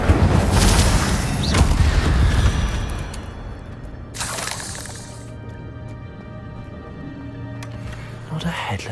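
A fire spell cast in Hogwarts Legacy in the Forbidden Forest gives a loud bursting, booming blast at the start, then a second whooshing flare mid-clip. A low hum sits underneath throughout.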